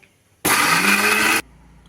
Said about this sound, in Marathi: आता छान चट चटणी आपण ग्राइंड करून घेऊया